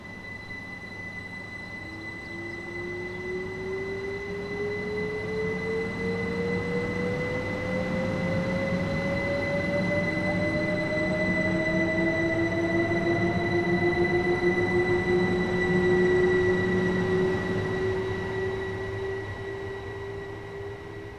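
Class 377 electric multiple unit running in Train Sim World 6, a steady rolling rumble under a rising electric motor whine and high constant tones, loud and sustained for about twenty seconds without voices.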